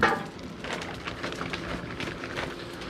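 Charcoal and wood burning in a smoker crackle steadily with dense small pops and snaps, fairly close and moderately loud, with no talk.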